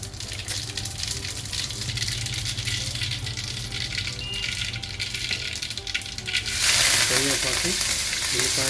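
Mustard seeds crackle and sizzle in about three spoons of hot oil in a pan, a steady close frying hiss that jumps louder and busier toward the end.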